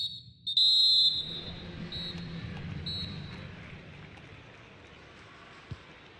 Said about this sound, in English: And that whistle brings the first half to a close.